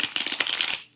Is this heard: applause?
no